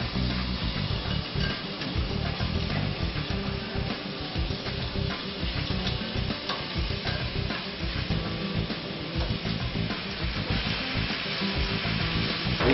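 Seared beef and onions sauté in a hot pan, giving a loud, steady sizzle with scraping stirring noises throughout and no talk.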